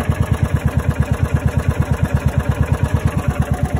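A John Deere Gator UTV engine idles steadily nearby, a loud, even, rapid low-pitched putter with a mechanical clatter that holds constant throughout, with no talking.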